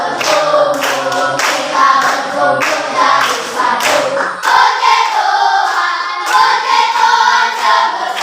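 A church congregation claps along to a worship song, steady rhythmic hand claps over singing voices and music, close and continuous throughout.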